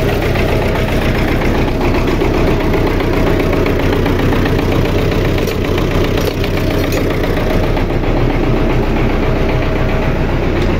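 Idling MTZ 82.1 tractor engine running steadily in frost after standing about five days, a loud, continuous diesel rumble heard close up with no talk over it.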